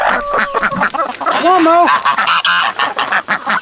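Ducks honk and quack loudly at feeding time, the harsh calls coming close and repeatedly, interleaved with a man calling out to the birds and a dog.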